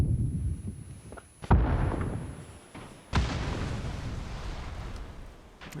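Two heavy booms in the PUBG video game, probably grenade explosions, each a sudden thump that rolls off into a long rumbling decay, spaced well apart against a low background.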